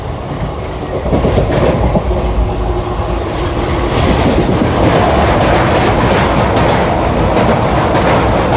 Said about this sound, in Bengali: বর্ধমানের দিকে ট্রেন ঢুকবে এরপর বর্ধমান স্টেশনে ঠিক সেই রাস্তা জায়গাতে আমরা আছি খুব স্পিডে যাচ্ছে ট্রেন